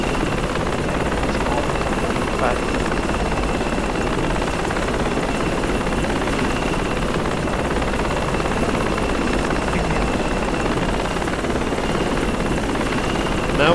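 A helicopter in flight in a video game gives a loud, steady rotor drone with an even engine hum, sustained unbroken throughout and heard alone.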